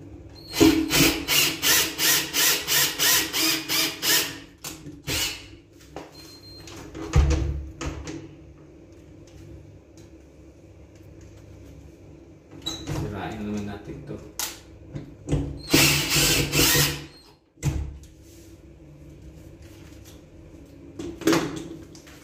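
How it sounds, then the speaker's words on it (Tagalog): A power drill backs the screws out of a broken door lock that won't take a key, in short whirring bursts: a rapid stuttering run early, then scattered spins and clunks, with someone talking between them. "Ayan, tinanggal ko muna yung mga tornilyo niya."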